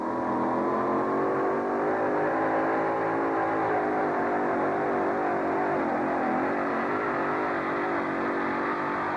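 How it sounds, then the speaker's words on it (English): A heavy truck engine roars and revs steadily at full throttle at a USHRA truck pull in Uniondale, 1991, loud and close, its pitch wavering slightly as it strains throughout. "John Heilman trying to join the pull-off."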